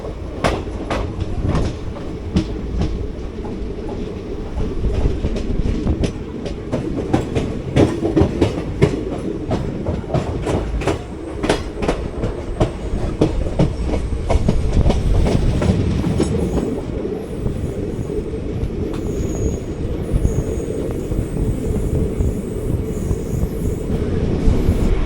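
The Nagercoil Express runs on rails under full tractive effort, loud and close, with a continuous rumble and rapid rhythmic clickety-clack of wheels over rail joints, plus faint squeal toward the end.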